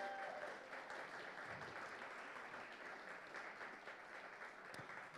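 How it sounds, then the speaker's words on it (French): Steady, moderately distant audience applause at a Café Numérique evening event in Liège, continuous clapping for the team with no talking over it. "je vais vous demander vos applaudissements pour l'équipe"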